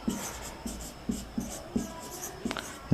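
Chalk or marker writing on a board in a chemistry classroom, a run of short scratchy strokes arriving in quick bursts, fairly close and clear, with no talking over it.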